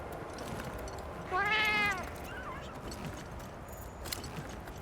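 A cat in Monster Hunter Wilds gives a single clear, rising-and-falling meow, about half a second long, over low ambient game noise.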